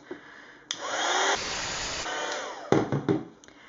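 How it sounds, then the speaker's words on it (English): A heat gun blows to melt embossing powder on a card, a steady airy whir that starts abruptly, holds for over a second and then continues with a few bumps and clicks. "I'll put the heat gun on for a second."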